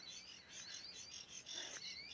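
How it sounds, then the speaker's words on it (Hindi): Faint, high-pitched bird chirps repeating steadily in the distance over a quiet background. "और ये देखो चिड़िया सुनाई देती है आपको"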